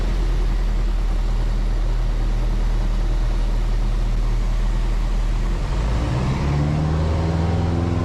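A light aircraft engine runs during a climb after takeoff, a loud, steady droning hum with strong low harmonics. The tone shifts slightly near the end as the power setting changes.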